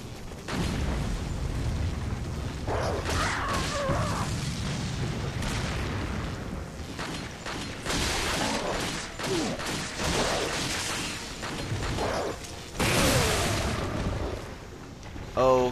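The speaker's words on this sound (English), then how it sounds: "The animation of me getting hit saved me from an explosion." An explosion in Resident Evil 4 gameplay: booming bursts and mechanical game effects come in several irregular hits over about fifteen seconds, mixed with other game sounds.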